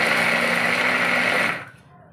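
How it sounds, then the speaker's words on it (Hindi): An electric chopper mincing chicken and lentils gives a loud, steady whir for about a second and a half, then cuts off and leaves quiet kitchen room tone. "उसके बाद चिकन दाल को कीमा बना लेंगे।"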